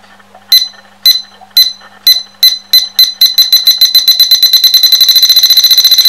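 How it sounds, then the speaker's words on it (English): A homemade freezer and refrigerator alarm beeps loud and high-pitched, starting with spaced single beeps that speed up steadily until they run together into a rapid continuous pulsing. "on the PCB board you can actually change the pitch and the intermittency of the beep"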